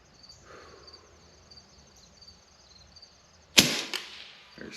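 A single sharp shot from an AEA Challenger Pro .25 air rifle, a bright crack with a short decaying tail, arriving late after a few seconds of quiet outdoor range ambience with faint insect-like chirps.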